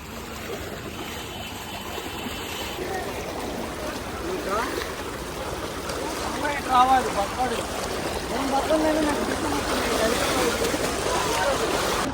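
A strong, steady rush of Vijayawada floodwater fills the scene, broad and turbulent throughout, with voices talking faintly over it.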